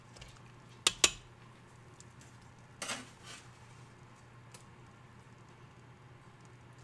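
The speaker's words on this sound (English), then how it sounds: "we're going to add our roasted pork bones" Roasted pork bones dropped into a stock pot for pork ramen give two sharp clattering knocks close together, then a softer clunk and rattle, followed by quiet.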